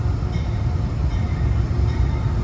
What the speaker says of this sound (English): here comes train 4859 for Poughkeepsie